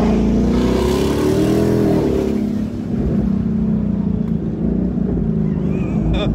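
A Ford Mustang GT S550 with a Corsa exhaust and double H-pipe rumbles close and loud, its deep, old-school engine note rising and settling through a rev, then holding a steady throaty drone.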